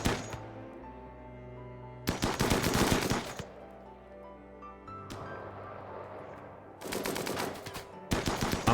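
Automatic gunfire from RimWorld comes in three loud rapid bursts, the last cut short, separated by quieter stretches of game background sound.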